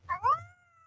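A domestic cat gives a close, clear meow in two quick rising pulses that settle into a drawn-out tonal tail, heard alone.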